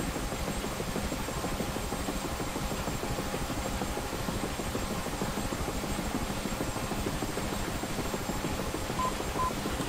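UH-1H Huey helicopter turbine spinning up during engine start in the DCS flight simulator, a steady, dense whine and rumble that holds at a constant loudness throughout with a faint high tone on top.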